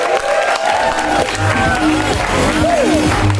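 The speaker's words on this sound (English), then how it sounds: "Go ahead and give them a round of applause." An audience at an improv comedy show breaks into applause and cheering, a dense continuous crowd wash with voices mixed in.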